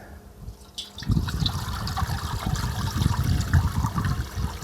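Ash water for soap making is poured into a pot, giving a steady, close splashing and trickling stream that starts after a second and keeps running.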